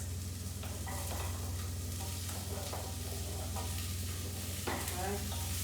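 Celery and carrots sizzling steadily in a pan of soup vegetables, with scraping and clacking as they are stirred, the frying hiss continuous throughout.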